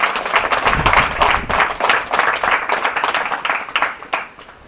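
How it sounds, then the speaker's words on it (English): A small audience at a prone rifle shooting competition applauds a finisher, scattered individual claps in uneven rhythm, fairly close and moderately loud, thinning out toward the end. "Big round of applause for him"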